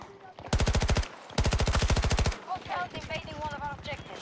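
Two long bursts of rapid automatic gunfire in the Battlefield 2042 video game, loud and close, followed by softer shots and game sounds under talk.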